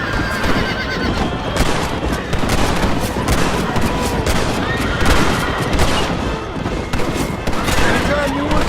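Rapid bursts of gunfire crack across a Red Dead Redemption shootout, mixed with horse whinnies and hoofbeats, the shots dense and continuous over busy game sound with voices now and then.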